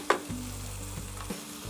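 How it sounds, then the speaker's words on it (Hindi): Roughly chopped onions frying in a pan for lauki do pyaza, a steady close sizzle with a few stirring knocks and scrapes, with no voices. "अब इसको अपने को भून लेना, अच्छे से पका लेना।"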